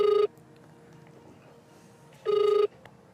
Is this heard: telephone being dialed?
yes